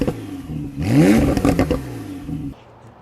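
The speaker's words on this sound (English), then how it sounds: "You can hear the turbo spooling up" A Porsche 911 Carrera 4S PDK, 991.2 with 3.0 turbo engine and switchable twin-pipe exhaust, revs hard in a loud close burst with a rising whine as the turbo spools, then drops back to a steady idle.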